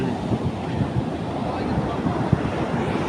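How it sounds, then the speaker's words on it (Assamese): Steady rushing surf with wind buffeting the microphone, a continuous broad wash of waves breaking nearby. "আৰু এইফালে সাগৰৰ ঢৌ উঠি আছে"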